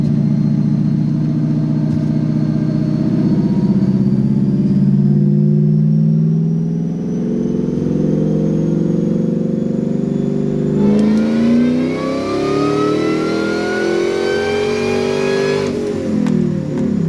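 Car engine loaded on a dyno during a tuning pull, droning steadily and loud, then rising sharply in pitch as revs climb hard near the end and cut off abruptly.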